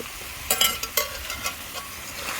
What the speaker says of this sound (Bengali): এখন আলু, সাজনা, করলা সব আমি মশলার মধ্যে সুন্দরভাবে কষিয়ে নেব।